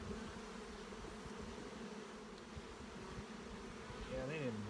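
Faint, steady hum of honeybees buzzing in an opened hive during an inspection, a soft continuous drone with a brief murmured voice near the end.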